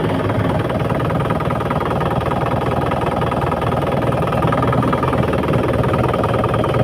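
A 2012 Isuzu Panther Grand Touring engine idling close by, with a steady, even rumble and fine rhythmic chugging and no other sounds.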